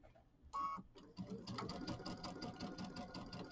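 Sewing machine stitching around the edge of a mini quilt, a fast, even mechanical rattle of needle strokes that starts after a brief whirring buzz and carries on steadily at close range.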